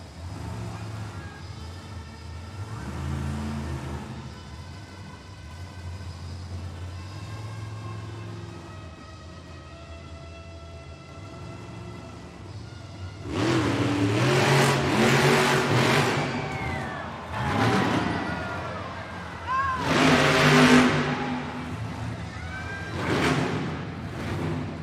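Monster truck El Toro Loco's engine at a Monster Jam freestyle event in Hamilton, Ontario, a low steady rumble at first, then a series of loud revving bursts as it rocks between front and rear BKT tires, echoing in a large arena.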